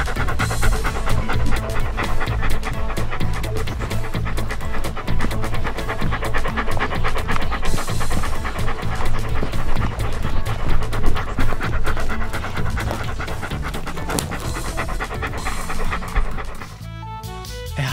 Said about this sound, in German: Polizeihunde haben sehr sensible Nasen und die Polizei verwendet sie, um Leute aufzuspüren und Spuren für die Ermittlung zu finden.